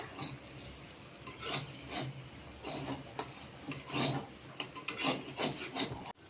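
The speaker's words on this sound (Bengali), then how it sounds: "চারিদিকে ছড়িয়ে ছিটিয়ে ছোলা আলু সেদ্ধ করে ভাজা করছে" Boiled chickpeas and potato being stirred in a frying pan, repeated scraping and rubbing strokes of a spatula against metal with a faint sizzle underneath, close and irregular, no voices.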